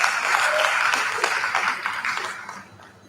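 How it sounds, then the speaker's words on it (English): Nursing and midwifery graduates at their ceremony clapping for themselves, a bright, dense round of applause that holds steady and then starts to fade toward the end. "So can you clap for yourselves?"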